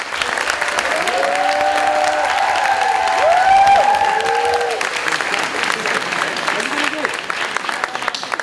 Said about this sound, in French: Veuillez applaudir Iman, représentant des Mains Management.